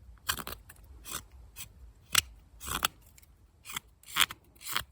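Morakniv scandi-grind knife push-cutting wood with thumb pressure, a series of short dry shaving strokes spaced irregularly, close and fairly quiet with no talk.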